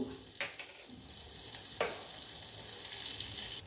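Steady crackling sizzle of cardamom, cloves, cumin and fennel seeds frying in hot butter, with a couple of brief stirring clinks, close and continuous throughout.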